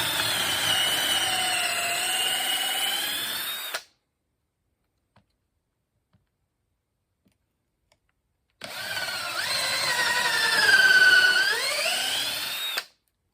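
Power drill running with an ordinary 1/4 inch bit, making a steady loud whine that shifts in pitch, in two long bursts separated by several seconds of silence.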